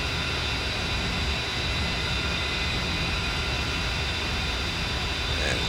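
The engine of an A-10C aircraft in the DCS combat flight simulator game hums steadily with a loud, broad whine and rumble, unchanging throughout and with no talking over it.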